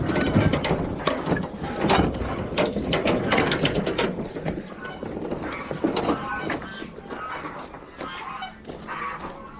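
A hand winch ratchets in quick, repeated metallic clicks while lifting a crushed truck bed at a farm junk-removal job, loud and close.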